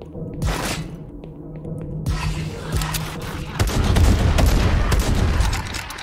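Booming shotgun blasts and heavy gunfire from the video game Project Warlock 2, loud and rapid amid continuous combat noise with no talk.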